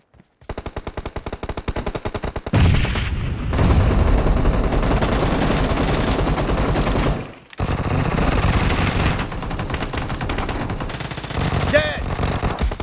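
Rapid automatic gunfire bursts repeatedly in a PUBG Mobile team deathmatch on iPhone 8 Plus, loud and close, with brief pauses between long strings of shots and a short voice call near the end.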